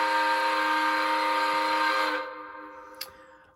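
A steady, loud horn or whistle blast from a USA Trains S4 model locomotive with an ESU sound decoder, with layered harmonic tones, holds for about two seconds, then cuts off, leaving a faint tail and a small click.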